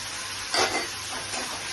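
Cashew and coconut paste sizzling in a pan, with one brief stirring swish over a steady frying hiss.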